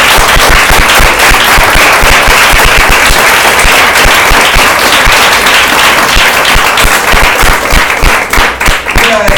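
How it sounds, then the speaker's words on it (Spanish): Dense, sustained applause from a church congregation, loud and close, filling the whole stretch with steady clapping and no break. "Dame un aplauso a él."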